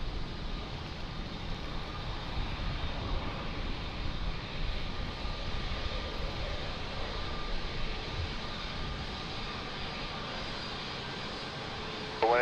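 Airliner jet engines during takeoff at Lisbon Airport, a steady broad roar heard from a distance, continuous throughout.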